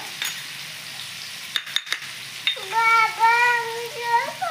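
Potatoes fry in a pan, giving a steady soft sizzle close by. Partway through, a wavering tonal whine rises over the frying and continues to the end.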